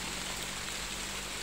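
Heavy rain pours down steadily in a rural garden, a dense, even hiss of falling water with no pauses, moderately loud and alone without voices.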